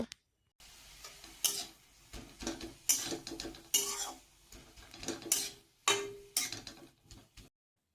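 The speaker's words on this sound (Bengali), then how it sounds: "তো অবশ্যই বাড়ি মেরে মেরে এভাবে খুন্তি দিয়ে ফুলটাকে মিশিয়ে নিতে হবে" A spatula stirs and presses drumstick flowers in a pan. Sharp metallic scrapes and taps come in irregular bursts between short quiet gaps, close and clear with no talking.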